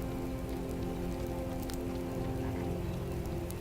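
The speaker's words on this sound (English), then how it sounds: "The inner reflection of home was broken up by the sound of the skies opening up with a deluge of rain" Heavy rain pouring down in a video game: a steady, dense hiss of drops drumming on surfaces, loud and unbroken with no voices.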